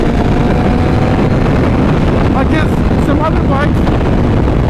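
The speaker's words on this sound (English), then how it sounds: "And it's very windy today." Strong wind buffets the microphone throughout, a loud constant roar outdoors beside a BMW HP4 motorcycle with an ECU flash, with someone talking over it and brief whistling tones near the end.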